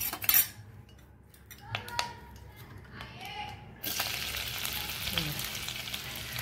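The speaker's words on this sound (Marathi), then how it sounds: "तेल थोडं तापलं की मी याच्यात फोडणीला कांदा टाकून घेते" Chopped onion goes into hot oil in a kadhai as a tempering for a Konkan cashew curry. Metal clinks and stirring come first, then a sudden, steady, loud sizzle takes over.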